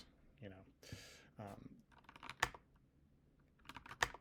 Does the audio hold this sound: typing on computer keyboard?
yes